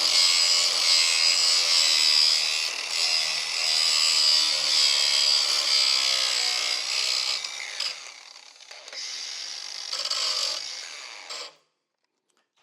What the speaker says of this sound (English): this is a cordless grinder, so I could grind anywhere around the property